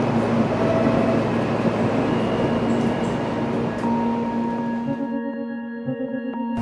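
A New York subway train sits at a station platform, a steady loud rumble with sustained hum and tonal whine throughout, easing slightly toward the end as the sound thins out.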